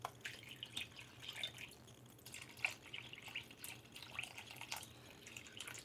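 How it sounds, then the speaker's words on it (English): Chicken broth pours and trickles into a pan around raw chicken, a faint, soft splashing and dribbling stream that wavers gently throughout. "Next up, chicken broth. Try not to get it directly on the chicken"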